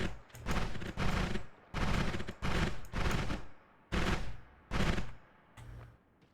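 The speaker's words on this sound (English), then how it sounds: "this is a very loud weapon" A loud video game weapon fires in a series of heavy bursts, about eight booming blasts spaced unevenly with short gaps, close and powerful with no talking over them.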